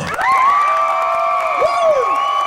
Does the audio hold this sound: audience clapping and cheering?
yes